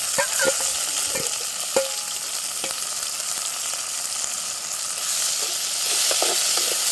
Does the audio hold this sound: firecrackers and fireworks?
no